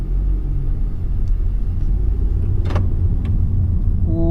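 A 2017 Honda Civic Sport with an i-VTEC engine pulling away after the handbrake is released, giving a steady low engine rumble and road noise from inside the cabin, with a few faint clicks and a brief tone near the end.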